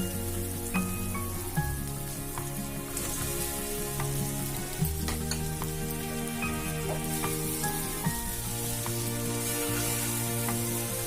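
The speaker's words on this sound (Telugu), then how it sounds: "అన్నీ కూడాను మసాలా అంతా చికెన్ పీసెస్కి పట్టేలాగా కలుపుకోవాలి" Fried chicken pieces are stir-fried with masala, garlic and coriander in a hot pan, making a loud, steady sizzle with occasional stirring knocks throughout.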